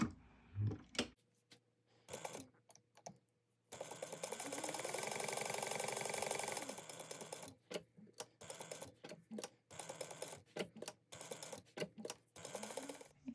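Sewing machine stitching a laptop bag, short whirring bursts and a sustained run of rapid stitching in the middle, interspersed with pauses and clicks, near and clear with no speech.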